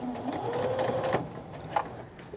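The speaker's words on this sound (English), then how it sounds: "we're going to take it over to the sewing machine. Just a nice edge stitch" A sewing machine runs a steady edge stitch along a small drawstring backpack, a close, even mechanical whir with faint clicks and a brief louder knock near the end.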